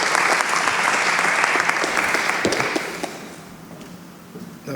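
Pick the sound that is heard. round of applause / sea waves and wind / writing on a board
round of applause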